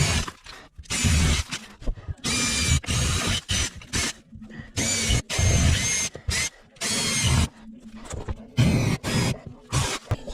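Drill bores a ring of perimeter holes through an old lath and plaster ceiling for a kitchen range duct, loud close-up bursts of whining, grinding drilling repeated about eight times with brief pauses between.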